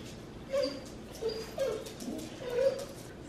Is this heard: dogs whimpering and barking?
yes